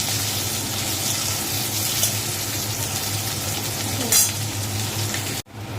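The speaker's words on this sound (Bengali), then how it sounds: "একটু লাল লাল করে ভাজা হোক পেঁয়াজটা" Onions frying in a pan until lightly reddened for a thin fish curry give off a steady, close sizzle, with a brief clink of stirring near the end.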